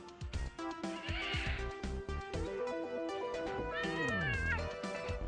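A cat meows repeatedly on a hotel room TV in the video game Thimbleweed Park, its cries mixed with game music and a whinny-like sliding tone, fairly faint but clear.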